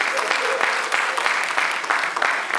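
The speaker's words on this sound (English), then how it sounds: "Another and round of applause." Steady applause from an audience at a book launch event, dense continuous clapping that fills the whole stretch at a fairly even level, with faint voices mixed underneath.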